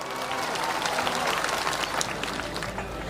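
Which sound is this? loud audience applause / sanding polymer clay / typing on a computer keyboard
loud audience applause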